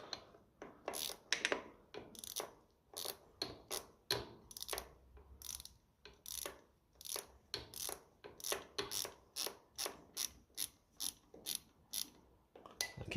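Countersunk screw bolts on the diaphragm housing of a 1954 Ferguson TEF 20 tractor being turned with a flathead screwdriver, a steady series of sharp scraping clicks and ratcheting ticks, close and fairly faint with no talking.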